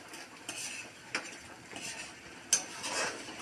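Spoon stirring sugar into manong sauce for fishballs, soft scraping swirls with a few light clinks against the container, quiet and close with no voices.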